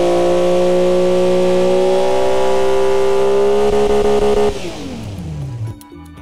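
A turbocharged coupe's engine in BeamNG revs up in a long, rising, steady pitch, loud and close, then drops off sharply and winds down as the revs fall away with no talk over it.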